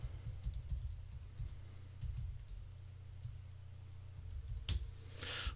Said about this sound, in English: that's all I tapped on the keyboard